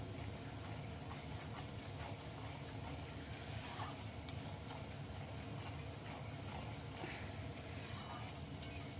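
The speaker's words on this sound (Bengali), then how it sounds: "এবার একটু নেড়ে নেড়ে মশলাটা ভালো করে কষিয়ে নিচ্ছি" Spice masala for a hilsa and eggplant curry being stirred and fried, giving a steady, dense sizzle with continuous scraping and stirring noise close up, level throughout with no talking.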